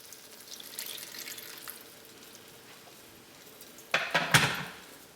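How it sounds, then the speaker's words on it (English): A little water is poured into a pot of carrot stew with tomato paste, making a short cluster of close splashes and trickles near the end after a quiet stretch of faint kitchen sounds. "I'm also going to add just a little bit of water."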